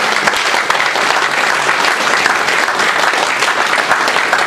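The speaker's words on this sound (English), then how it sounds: "I'm going to give you a round of applause." A town hall audience breaks into loud, sustained applause, a dense wash of many hands clapping close by with little else audible.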